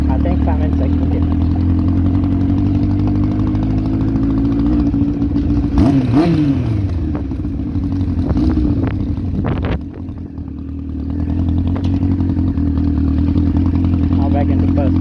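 A scrapped 1000cc Yamaha Fazer motorcycle runs in second gear, its engine droning loud and steady with a couple of rising and falling revs in the middle, while a rider talks over it.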